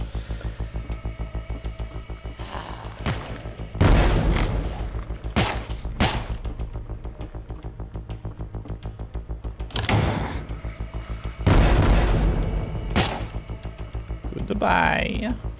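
Gunfire and explosions from the demonic shooter game Forgive Me Father, arriving as several loud, sharp bursts spread across the stretch over a steady low hum, with a voice talking at times.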